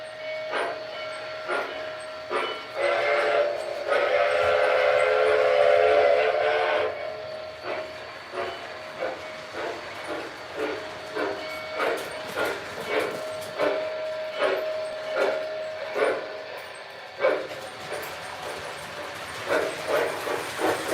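A model F40PH locomotive with a Rail Sounds model-train sound system running: a steam-style whistle blast up front, then a steady rhythmic chuffing with repeating clicks over a low rumble, moderately loud and without speech.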